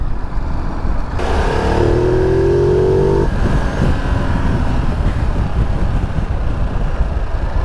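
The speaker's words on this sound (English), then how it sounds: "Yeah, you can hear that sound," A 2022 Ducati Multistrada V2S motorcycle engine and exhaust rev, with a rising, whining pitch sweep heard through steady wind rush while riding, loud and close.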